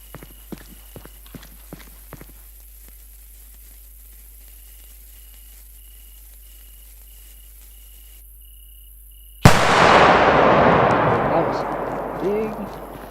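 A Doom Boom 50 gram firecracker in the video game Fireworks Mania goes off with a single sudden loud bang, after quiet ambience with faint clicks, then a long rumbling decay that fades over several seconds.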